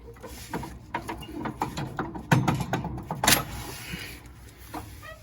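A nut being removed from the drive belt pulley of a John Deere rider mower, close ratcheting clicks and metallic clanks in irregular bursts, with no talking.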